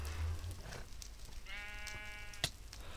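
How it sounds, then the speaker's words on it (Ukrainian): A Minecraft sheep gives one clear wavering bleat midway, moderately close and alone over quiet in-game ambience, followed by a brief sharp click. "Я тут взяв з собою вівцю."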